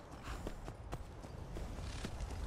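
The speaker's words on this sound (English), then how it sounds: "You can hang out here with this horse." Horse hooves clip-clopping at a walk in the Skyrim video game, a steady series of sharp hoof strikes over a soft ambient background.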